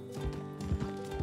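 A mangy horse near a stable in Red Dead Redemption 2 roleplay, hooves clip-clopping in a steady walking rhythm at moderate distance, faint and without talk.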